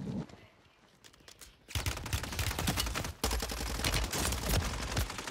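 Gunfire in the video game Warzone 3 on Rebirth Island, dense rapid bursts of shots that start after a quieter stretch and continue almost without pause, loud and close.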